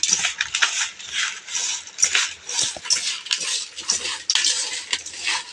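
Bhel mixture tossed and stirred with a spoon in a bowl, giving repeated clinking and scraping strokes in an uneven rhythm, close and fairly loud, without talk.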